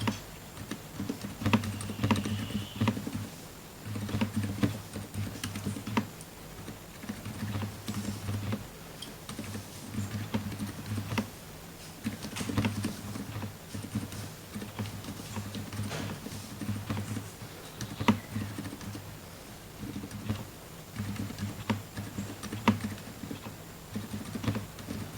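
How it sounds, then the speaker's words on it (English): A Ducky One 2 Mini mechanical keyboard is typed on steadily, producing close, crisp clacking keystrokes in continuous irregular runs with brief pauses, over a faint low hum and no talking. "this is a typing test for my Ducky keyboard"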